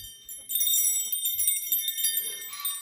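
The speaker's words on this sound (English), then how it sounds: "We use a lot of wind chimes." Wind chimes hung on a fence as a bear warning ring steadily with bright, sustained metallic tones that overlap and shimmer, joined by a soft rustle or clank near the end.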